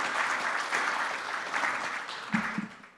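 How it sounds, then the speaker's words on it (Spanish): Conference audience applause at a national private-enterprise congress, a broad even spread of many hands clapping that slowly fades toward the end. "Así que pido un fuerte aplauso para don Gustavo"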